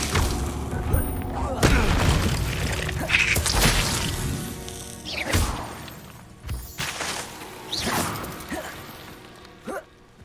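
Fire spell cast in the wizarding combat game Hogwarts Legacy, heard as repeated loud whooshing bursts and impacts amid busy battle effects, with a player's voice calling out spells between them.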